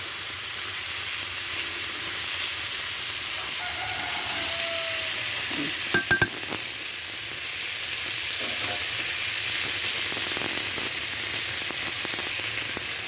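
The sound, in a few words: magur catfish frying in a pan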